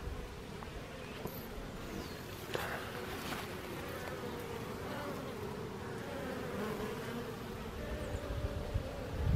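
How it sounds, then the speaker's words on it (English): A dense, steady buzzing hum of many honeybees in a hive box fills the clip, close and continuous, with faint rustles underneath. "I can actually feel the hum of the box, the bees in the box"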